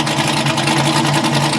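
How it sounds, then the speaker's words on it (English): Sand car engine idling on its own with no throttle after firing up, a steady low rumbling burble with a fast even pulse through the exhaust, close and loud. "So yeah, that's how easy it fires up."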